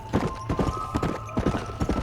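Horse hooves clip-clopping in the Red Dead Redemption video game, a steady walking rhythm of close, distinct hoof strikes with no talk.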